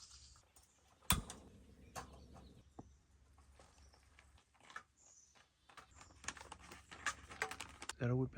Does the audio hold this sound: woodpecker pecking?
yes